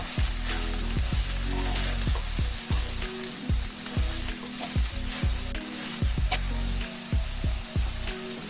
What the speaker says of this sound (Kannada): ಖಾರದ ಪುಡಿ ಮತ್ತು ಧನಿಯದ ಪುಡಿ ಎಲ್ಲ ಹಾಕೊಂಡ್ಮೇಲೆ 1-2 ನಿಮಿಷ ಈ ರೀತಿ ಸ್ವಲ್ಪ ಫ್ರೈ ಮಾಡ್ಕೊಂಡ್ರೆ ಸಾಕು